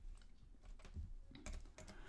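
Keys tap on a computer keyboard as 12 is entered and then Enter is pressed, a few quiet separate clicks with a slightly firmer final press, close and with no voices.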